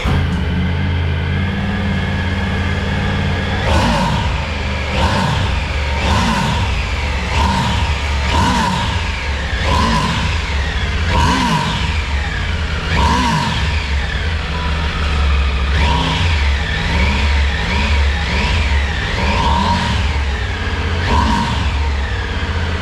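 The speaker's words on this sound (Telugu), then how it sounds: "ఒక్కసారి మనం కూడా ఎగ్జాస్ట్ సౌండ్ని విందామా?" A 2024 Triumph Tiger 900 Rally Pro motorcycle's exhaust barks through a long series of sharp throttle revs, each rising and falling in quick succession, loud and close with no talk.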